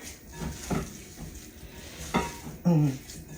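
A spoon stirs onion gravy in a pan, making a few scattered scrapes and heavier clunks over a faint, low sizzle, with one louder knock near the end.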